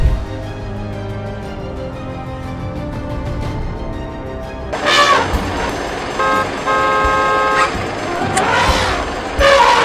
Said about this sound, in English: the noise from the alarm only angered the elephant more